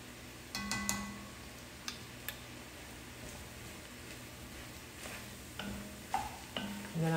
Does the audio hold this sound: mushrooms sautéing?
yes